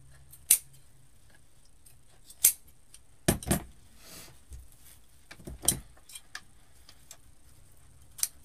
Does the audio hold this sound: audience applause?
no